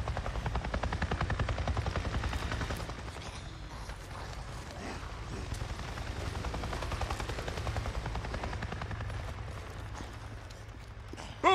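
A helicopter in the video game Days Gone thrums steadily overhead, a loud continuous rotor chop that fades slightly midway with mechanical creaks layered in.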